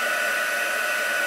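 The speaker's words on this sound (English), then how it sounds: "I know people say you don't need to move your heat tool around." Heat tool for embossing blows a constant loud whooshing roar of hot air onto cardstock, close and steady with no pauses or voices.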